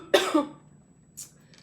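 A single sharp cough bursts out close to the mic, followed by a softer short throat sound about a second later, in an otherwise quiet room during an everything bagel tasting in New York City.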